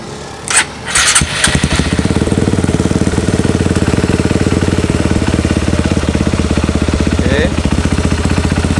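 Motorcycle engine fitted with a Juken 5 ECU cranks and catches, then settles into a steady, loud, rapidly pulsing idle in neutral close by, with brief voice sounds near the start.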